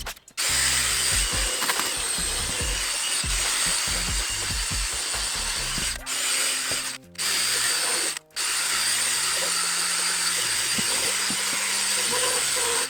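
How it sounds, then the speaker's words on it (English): A power drill whirs steadily with a scrubbing brush grinding against a Honda Civic's fabric car seat, the motor cutting out briefly twice before resuming, loud and close. "we've hit it with a drill brush"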